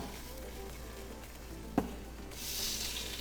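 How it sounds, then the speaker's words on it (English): Soft, steady sizzling of bones browning in a pressure cooker, with a brief sharp clack partway through and the frying hiss growing a little brighter toward the end. "you can hear it sizzling, so it is actually browning in there"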